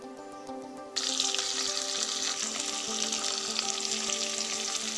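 Whole cumin seeds, onion and bay leaves frying in hot oil in a wok. After a quiet first second, a close, loud, steady sizzle takes over and continues without a break, with no talking.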